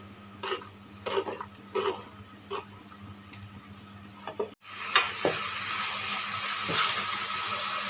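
A spoon scrapes and taps through a sizzling fish kozhambu base of kaanangaththa fish. Tamarind water is then poured in, setting off a sudden, louder, sustained hiss of frying that continues to the end.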